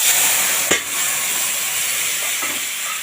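Boiled vegetables with dried red chilli and Bengali five-spice bubble and sizzle in a pan for raw-banana shukto, a steady close hiss broken by one sharp clink of a utensil early on.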